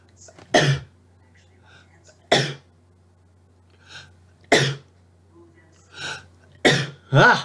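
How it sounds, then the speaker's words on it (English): Several sharp sneezes burst out one after another at irregular intervals, close and loud, with softer breathy sounds between them. "I'm going to sneeze."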